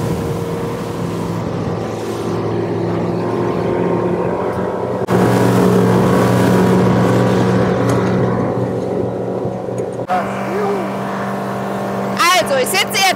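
A boat motor drones loudly and steadily nearby, a dense low roar with a voice speaking over it, in Croatia.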